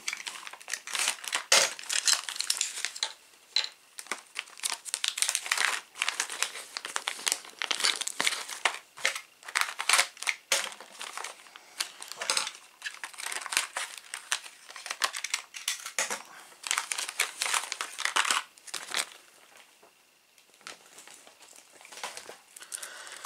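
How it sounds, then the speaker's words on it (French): Plastic packaging crinkles and crumples almost continuously as parts for a DeLorean model kit are unwrapped close by, with dense bursts of rustling and tearing and a brief lull near the end. "Je vais les déballer en même temps que vous."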